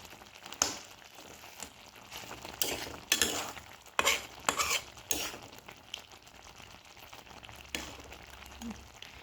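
Butter prawns with ground black pepper being stirred in a pan, a spoon scraping in a few irregular bursts over a faint background hiss, close and moderately quiet.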